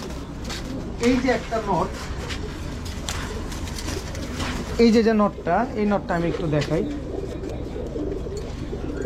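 Several pigeons at a pigeon keeper's loft give repeated, rolling coos in short bursts, close by. Someone talks over and between the calls.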